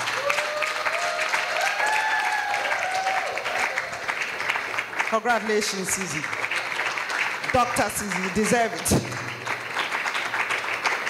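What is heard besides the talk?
audience applause for award winner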